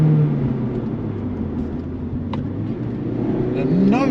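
A Mazda MX-5 ND engine holding high revs from inside the cabin, a steady droning hum with a rising pitch sweep near the end, while a person talks over it.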